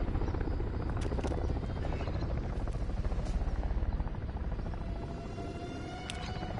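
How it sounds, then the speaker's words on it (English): An attack helicopter in Call of Duty: Modern Warfare 3 gives a continuous loud rotor throb with a steady rhythmic chop and engine drone, holding fairly near throughout without speech. "Attack helos dug in."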